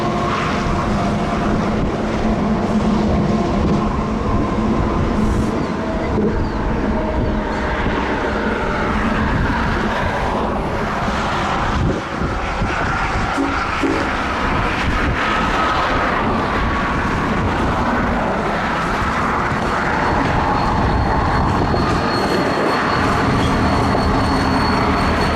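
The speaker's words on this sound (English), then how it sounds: "They even gave me a horn salute." A moving set of freight locomotives led by an Ace rolls under a bridge at a rail yard in Galesburg, Illinois, making a loud, continuous, close rumble with wheel and engine noise throughout.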